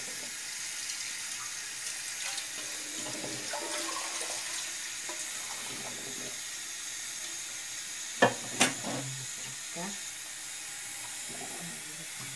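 Hot water drains from a pot of boiled beef tongue, giving a steady watery pour and hiss with a few louder clanks of the pot partway through, close and with no talk.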